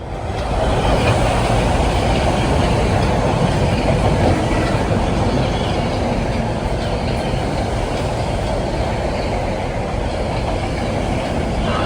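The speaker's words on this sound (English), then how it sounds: "No, that's a Croton Harmon train" A Metro-North Croton-Harmon commuter train bound for Tarrytown rumbles through Harlem 125th Street station, a loud continuous roar of wheels and rail noise with faint clatter throughout, close by.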